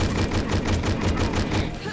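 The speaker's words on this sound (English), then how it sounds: "it's just her throwing bolts at us at the moment" An enemy in the video game Hedon hurls bolts in a rapid, steady volley of sharp, rattling impacts, evenly spaced and continuous across the moment, loud and close.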